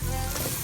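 Chili, coriander and turmeric powders with a little garam masala being stirred in a hot pan for a chickpea-free green gram curry, giving a steady close sizzle with faint scraping and no talk.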